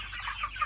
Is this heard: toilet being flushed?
no